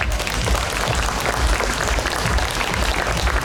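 Dense, steady applause from a crowd at a public event in Palanga, celebrating a folk ensemble's jubilee, sustained and loud throughout.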